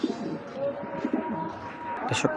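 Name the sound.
racing pigeons cooing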